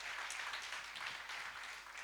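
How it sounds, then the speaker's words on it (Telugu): A church congregation at a Sunday service claps in praise to God, giving a steady, fairly faint crowd applause with rapid overlapping hand strikes and no speech. "నా మనోళ్ళు గట్టిగా చప్పట్లు కొట్టి దేవుని మహిమపరుతారు"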